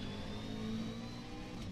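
A McLaren 650S GT3 race car engine in the rFactor 2 simulator hums at a steady, quiet, mid-pitched level, holding a sustained tone for a couple of seconds.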